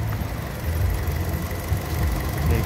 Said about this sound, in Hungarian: A motor az szinte teljesen hangtalanul ketyeg.